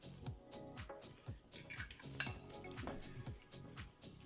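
Metal utensils clink and scrape against a dish while an Israeli salad with tomato is tossed, a quick irregular clatter of close-up taps and scrapes.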